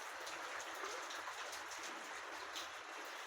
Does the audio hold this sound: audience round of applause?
no